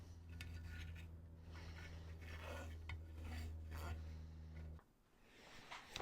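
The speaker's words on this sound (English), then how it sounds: "I'm going to gently go around with a little bit of Scotch-Brite abrasive just to take off the high" A Scotch-Brite abrasive pad is rubbed around the cylinder bore of a 61-year-old military chainsaw, making close, scratchy strokes over a steady low hum that cuts out near the end.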